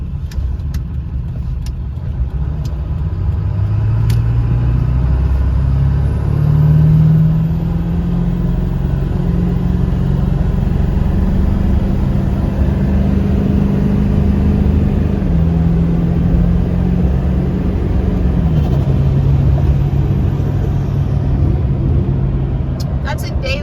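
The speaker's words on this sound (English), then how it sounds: "we're gonna do a corner pull up to about 70 miles an hour" A 2003 Ford 7.3 Powerstroke diesel pickup fitted with 180/30 injectors pulls hard up to about 70 mph, its low engine drone rising steadily in pitch through the gears while a person talks over it.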